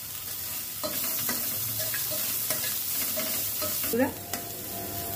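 Onions frying in a pan over a steady sizzle, with repeated scraping and clinking of a spoon against the pan as they are stirred, louder toward the end.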